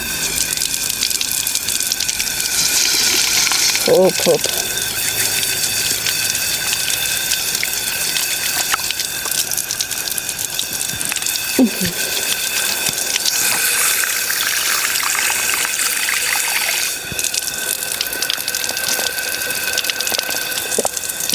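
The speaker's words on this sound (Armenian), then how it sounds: "Էլի հիշատակի նվիրված աղբյուրա։" Steady spring water runs continuously from a memorial spring, a close broadband rush with a faint voice briefly heard over it.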